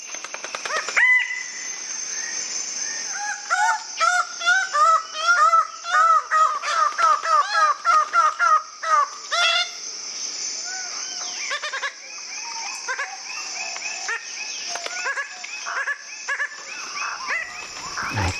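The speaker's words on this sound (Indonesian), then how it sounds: "suara dari Red Bird of Paradise atau cendrawasih merah." Red bird of paradise in the Raja Ampat forest of West Papua, calling loudly in rapid repeated harsh, nasal cackling bursts over steady insect drone, then fading to scattered quieter calls and background birds.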